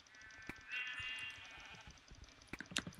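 Sheep bleating in the Minecraft video game, a drawn-out bleat in the middle followed by clusters of clicky game sound effects, with no talking.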